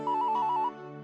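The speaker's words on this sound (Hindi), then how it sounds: "आत्मारामचा फोन." A phone ringtone chirps in a rapid, even series of about eight bright electronic pulses over a sustained harmonic tone, loud and close, then the pulses stop and the tone continues more quietly.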